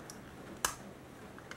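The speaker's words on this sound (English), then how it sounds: "you even hear it click. That's clicking right in place." A plastic part of a Warhammer 40K Tyranid Hierophant Bio-Titan model kit snaps into place with a single sharp, close click, followed by a fainter tick, against quiet room tone.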